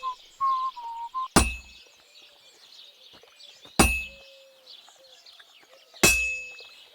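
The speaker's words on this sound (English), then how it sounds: "Now take the hammer and try hitting it a few times" Three sharp, loud metallic clangs of a hammer on a sword at an anvil in Kingdom Come Deliverance II, widely spaced and ringing briefly, over a background of chirping birds and a faint whistle-like tone.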